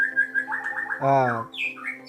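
White-rumped shama (murai batu) chick being hand-fed after being brought out of the house, giving a run of clear chirps and a louder, harmonic-rich call in the middle, close by and fairly loud, with no talking.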